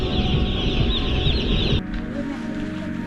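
Chickens clucking up close in a crowded coop in Iloilo City, the Philippines, a busy overlapping chorus of clucks and calls that cuts off abruptly partway through, leaving a quieter background.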